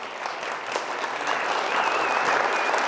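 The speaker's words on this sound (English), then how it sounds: "Let's give them a round of applause." An audience at a high school Hall of Fame induction ceremony applauds, a dense steady clapping that builds slightly over a few seconds.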